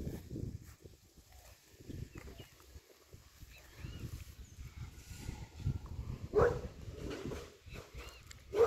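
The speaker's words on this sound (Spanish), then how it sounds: "Ey, está bravo ese perro" A dog barks and whimpers outdoors near a cornfield in El Salvador, with short scattered yelps and barks at a moderate distance, mixed with faint background sounds.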